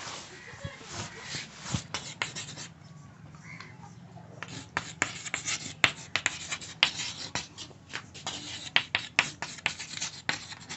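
Properties being written by hand on a board during a maths lecture: quick tapping and scratching strokes, closely spaced and fairly faint, with a voice occasionally heard.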